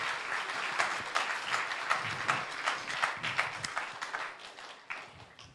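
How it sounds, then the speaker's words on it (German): Audience applause at a family church service, a moderate spread of individual claps with distinct sharp hits standing out, tapering slightly toward the end. "Können wir einen grossen Applaus für den Mose und für das Volk Israel?"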